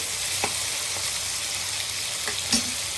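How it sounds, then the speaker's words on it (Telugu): Tomatoes frying over fried onions for a broad bean and potato curry, a steady close hiss of sizzling oil with a few faint taps of a spoon against the pan. "టమాటా వేసేస్తున్నాను ఇది కూడా మగ్గి కొంచెం సాఫ్ట్గా అయ్యేదాకా మగ్గించుకోవాలి"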